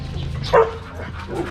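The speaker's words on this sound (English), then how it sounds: "Dogs." Dogs bark near a hilltop house partway up a mountain in the Philippines: one short, fairly close yelp-like bark bursts out mid-clip over a low steady background rumble.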